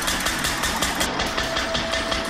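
Engine of the world's first car, an early motor vehicle driven in the Assetto Corsa racing game, running steadily with a rhythmic chugging pulse, loud and close throughout with no talk.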